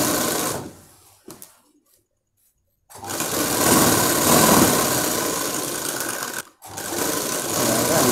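A sewing machine stitches satin and net cloth together for a frock, whirring loudly and close, stopping for about two seconds, then running steadily again with a brief break near the end.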